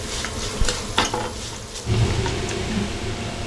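Masala for a Malabar-style curry of a large trevally head fries in a pan, hissing steadily with occasional metallic clinks and scrapes of a spoon against the pan, close up.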